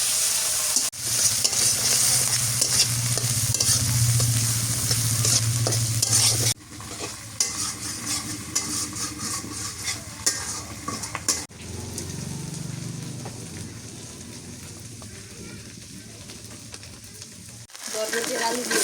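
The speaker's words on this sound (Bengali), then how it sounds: "এখন হচ্ছে বরবটি আর আলু ভাজি করি" Yardlong beans and potatoes fry with green chili, onion and dried fish in a pan on a rainy day, a strong steady sizzle with repeated stirring scrapes, close and loud, with brief cuts between shots.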